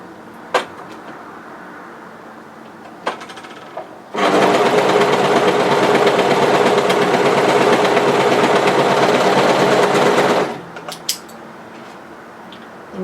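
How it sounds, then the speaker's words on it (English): An overlocker stitches the raw edge of a folded fabric belt loop in one steady, loud mechanical whir of about six seconds, with a few light clicks and handling knocks before and after. "fold it right sides together lengthwise and overlock on the raw edge"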